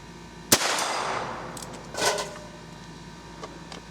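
A single sharp .22 LR rifle shot firing a CCI Velocitor 40-grain copper-plated hollow point, loud and close, with a decaying tail and a fainter clack about a second and a half later.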